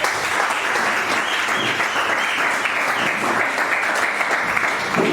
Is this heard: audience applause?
yes